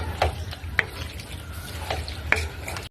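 A utensil stirs macaroni spaghetti in a small pan. Soft scraping strokes and a few sharp taps of the spoon on the pan sound over a low, steady background hum, close up.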